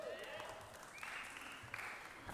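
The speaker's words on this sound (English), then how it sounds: "I don't know if y'all can hear that. That is a feisty crowd." Lively crowd at an annual church-style Vision Night gathering cheering and applauding, a dense steady wash of clapping and whoops with brief louder bursts, heard at a distance in a large room.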